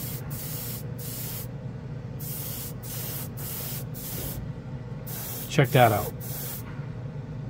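A Testors Aztek airbrush sprays at full air pressure in a steady, continuous hiss that runs nearly throughout, with pulsing gaps, while someone speaks briefly near the end.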